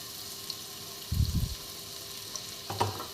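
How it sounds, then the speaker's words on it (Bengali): Chopped onions fry in a pan of ghee and oil for a paneer tikka dum biryani, with a soft, steady sizzle underneath and two brief louder scrapes of stirring. "পেঁয়াজগুলো খুব ভালোভাবে ভেজে নিতে হবে।"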